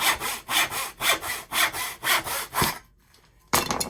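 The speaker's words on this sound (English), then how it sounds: "I take the simple dovetail saw, and I just follow that line." Dovetail saw cutting through wood held in a bench hook, with about seven steady back-and-forth rasping strokes at a regular rhythm, then a short pause and one more stroke starting.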